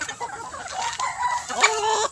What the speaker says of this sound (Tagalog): Mga inahin pa naman, oh.